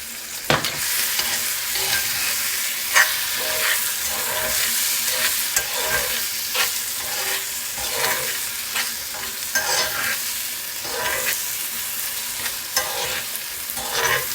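Radish chutney mixture stirred in a hot frying pan, repeated close scraping strokes in an uneven rhythm over a continuous light sizzle, with no talking.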